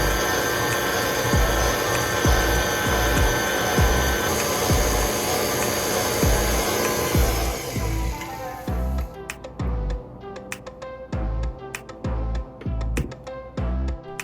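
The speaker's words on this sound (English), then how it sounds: "Now we're gonna add sour cream and on a low speed, mix everything until well combined." An electric mixer on low speed beats cheesecake batter with sour cream, a steady whir with rhythmic knocking that changes partway through to a choppier, more intermittent churning.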